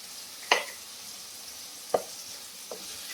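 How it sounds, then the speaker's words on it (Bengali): Ground spices with cumin powder and salt fry in a pan for a Bengali curry, making a soft continuous sizzle broken by three distinct utensil knocks or scrapes as the mix is stirred, with no voice. "দিয়ে আমি ভালো করে মশলাটা কষে নেব।"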